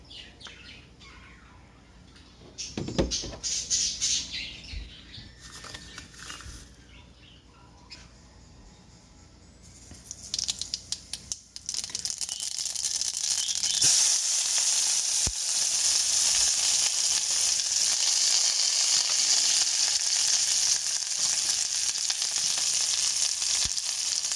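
Oil poured into a hot pan bursts into loud, steady sizzling that fills the second half, after quieter clattering and handling sounds, with faint bird chirps in the background.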